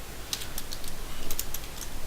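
Typing on a computer keyboard during a C# console programming tutorial gives scattered light clicks and key taps under a steady hiss of room noise, fairly close, with no talking.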